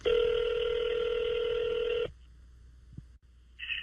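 Telephone dialing tones sound for about two seconds as a steady loud stack of beeps, then cut to a quiet line with a small click and a short tone at the end.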